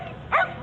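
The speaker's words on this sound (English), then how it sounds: "Her mum, Sam, is down here on the start line with Patch, the Jack Russell, who's agility grade 5." A Jack Russell terrier at a dog agility event gives a single short bark or yip, mid-distance, against steady background noise.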